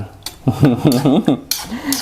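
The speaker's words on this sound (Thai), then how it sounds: "คนให้เข้ากัน" A spoon scrapes and clinks against a bowl while stirring Thai fresh chili fermented fish dip with sliced sawtooth coriander, a quick close run of rhythmic scraping strokes.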